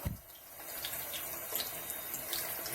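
A makeup brush rinsed under a running bathroom tap, with a steady, close hiss of flowing water and small splashing shifts as the brush moves through the stream, no voices.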